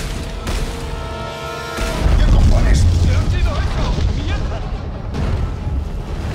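In Dead Space 3, a weapon's secondary fire sets off a heavy, rumbling explosion that swells after a tonal charge-up and lingers with debris-like crackle, loud and close, with someone talking over parts of it.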